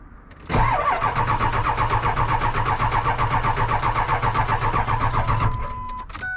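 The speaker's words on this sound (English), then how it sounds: "I'm gonna see if the truck does fire up" A truck engine cranking in snowy cold, the starter grinding in a fast steady rhythm for about five seconds without catching, then cutting off abruptly.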